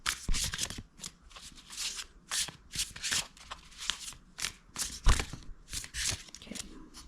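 Oracle cards being shuffled by hand at close range, with repeated soft papery riffles and flicks in uneven bursts, no speech over them.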